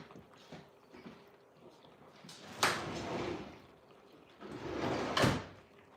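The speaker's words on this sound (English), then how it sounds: "I gotta let Honey out now" A back door is opened to let a dog outside: two loud, close bursts of latch clatter and rattling door movement about two and a half seconds apart, with quieter shuffling and handling noise in between.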